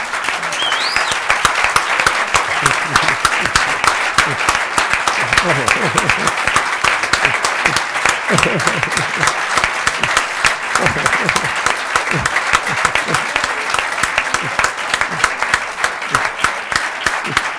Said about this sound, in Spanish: ha llegado el momento de darle un rotundo aplauso